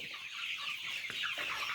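Chickens cluck steadily on a poultry farm, a dense, close flock chatter with overlapping calls and a few sharper clucks standing out, no voices.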